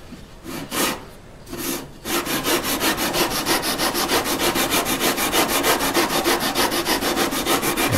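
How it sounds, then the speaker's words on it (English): Rhythmic rasping of sandpaper on a wooden electric guitar neck, a few separate strokes then a fast steady back-and-forth sanding parallel to the neck's edge, close and loud. "It feels very strange to me to be sanding parallel to the edge of the neck"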